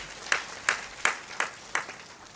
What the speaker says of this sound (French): je veux vraiment profiter de cette occasion pour que vous les applaudissiez très fort pour le travail qu'ils fournissent